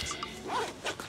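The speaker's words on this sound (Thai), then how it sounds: "ขออนุญาตรูดซิปก่อนนะครับ" A jacket zipper is pulled up once in a single quick, close rasp, zipped against the cold while outdoors by a city wall at the Hengdian film studios in Zhejiang, China, with faint background ambience.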